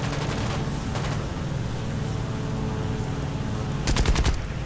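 Aircraft machine guns in the War Thunder air-combat game rattle in a continuous rapid stream, with a louder, sharper burst of shots near the end.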